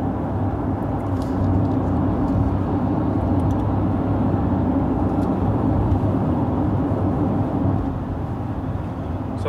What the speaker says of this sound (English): So the car is slowing down because there is a car in front of me.